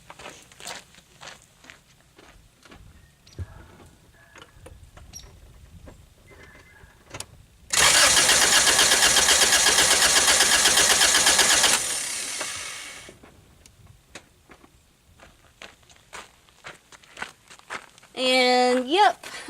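Acura Integra engine cranking on the starter during a wet compression test for suspected worn piston rings, a loud steady churning burst lasting about five seconds, with quieter handling noises before and after.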